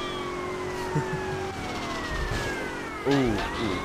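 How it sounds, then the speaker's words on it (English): A police siren wails in the video game Grand Theft Auto: Vice City, its rising and falling tones sweeping over traffic noise, with a brief exclaiming voice near the end. "The siren is the police horn."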